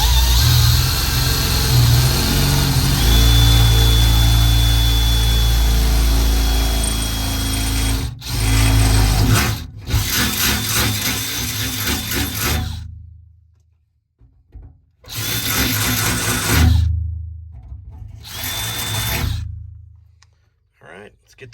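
A power drill boring holes for an RV propane tank strap bracket, a loud sustained whine that cuts out, then two shorter bursts separated by silence, close by.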